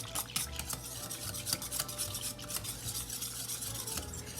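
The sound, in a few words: whisking ingredients together in a bowl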